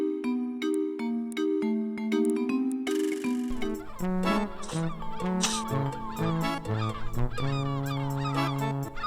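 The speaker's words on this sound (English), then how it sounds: "Stand still for too long and the gulls get you." Seagulls squawk in the adventure game Lucy Dreaming, a string of loud, harsh, honking cries repeating in quick bursts over tuneful game music.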